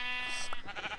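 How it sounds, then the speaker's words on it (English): In Minecraft, a sheep gives a short, near bleat that rises briefly, with a faint voice beneath it. "I see a sheep!"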